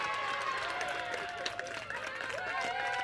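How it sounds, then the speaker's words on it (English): Spectators at a high-school softball game between Palmetto and Manatee roar after a hit, a continuous distant crowd noise with scattered clapping under a commentator's talk. "And from the roar of the crowd"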